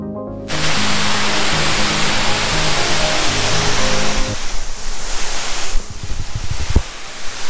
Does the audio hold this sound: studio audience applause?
no